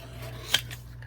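A single quick snip of scissors cutting paper while making a junk journal folder, one sharp close snick over a low steady hum.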